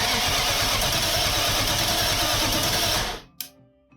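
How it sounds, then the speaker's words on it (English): Starter motor cranking a BMW 4.6iS V8 engine mounted on a homemade test stand, a loud steady mechanical whir that runs continuously for about three seconds and then cuts off abruptly. "Alrighty, let's test the starter."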